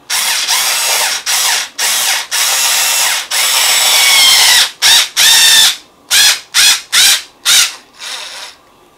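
A cordless driver running in reverse on a bolt in the suspension of a Traxxas Maxx RC truck: loud whirring bursts, first long runs, then a series of short stuttering pulses, close up and without talk.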